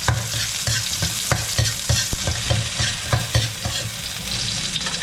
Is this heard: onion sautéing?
yes